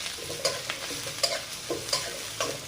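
Sliced onion and green chillies sizzle in hot oil in a pan, with a steady crackle broken by several sharp scraping clacks of a spatula stirring at a loose, uneven rhythm, close and fairly quiet.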